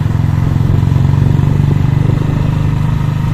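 A 125cc gasoline motorcycle engine drones loud and close while being ridden, a steady, rapid putter holding constant throughout.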